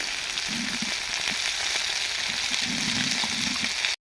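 Silver carp pieces frying lightly in oil in a pan make a loud, continuous sizzle with crackling bursts and bubbling pops up close, and nobody talks.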